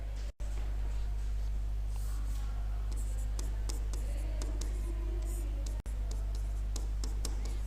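Marker or chalk writing on a board during a biology lesson, with quick, faint scratching strokes in short bursts, up close in an otherwise quiet room.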